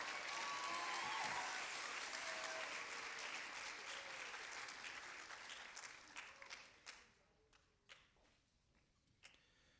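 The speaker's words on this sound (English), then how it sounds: "Let's give these students a round of applause." Audience applause for students receiving certificates at a school awards ceremony, a dense sustained ovation that thins out after about six seconds into scattered individual claps before fading.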